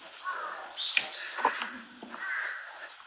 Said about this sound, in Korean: 까마귀 소리 나죠?